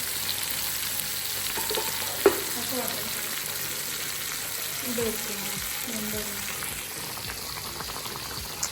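Chicken frying in a pan, a steady close hiss and sizzle of hot oil with bubbling, a few clinks and stirring sounds over the continuous frying.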